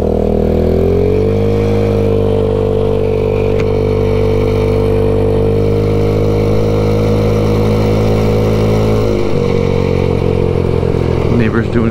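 A 2021 MADDOG Generation V 150cc scooter engine idles high and steady close by, a continuous droning hum that drops slightly in pitch near the end.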